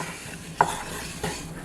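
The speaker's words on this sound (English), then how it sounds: "Stir these around." Chopped vegetables being stirred around in a hot pot for a sweet potato bisque, a spoon scraping with a couple of soft clacks over a steady low sizzle.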